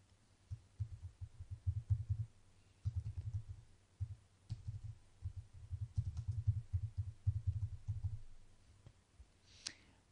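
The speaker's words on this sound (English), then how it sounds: "we'll just type in the column names" Column names are typed on a computer keyboard for a SOLIDWORKS design table, heard as close bursts of rapid key clicks separated by brief pauses.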